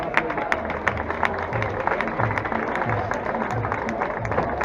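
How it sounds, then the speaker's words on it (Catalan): A crowd claps steadily for the second-place finisher of a 7K road race in Meliana. The dense, continuous applause carries a faint murmur of voices underneath. "I s'aplaudiment per a ell."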